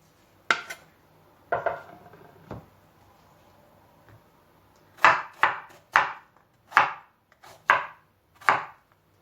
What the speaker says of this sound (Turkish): ince doğruyorum çabuk olsun diye, haşlansın diye.